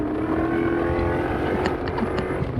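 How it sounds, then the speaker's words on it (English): A car drives past on a road in green New Zealand countryside, a steady mid-level engine and tyre rumble with a faint rising whine, heard without speech. "And then some randos in a fucking car."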